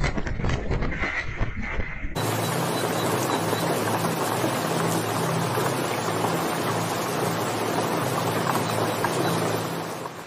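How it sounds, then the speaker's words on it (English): Strong winds and heavy rain lash a street in Hangzhou during a storm, a dense, loud roar of downpour and gusts that runs unbroken for several seconds after a brief opening burst, with a low steady hum underneath. "Some residents in Hangzhou City took videos and pictures of strong winds and heavy rain."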